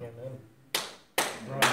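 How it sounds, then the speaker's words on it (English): Church service applause, a few sharp, separate claps near a talking voice, spaced unevenly over under two seconds. "We all should be clapping for the Lord."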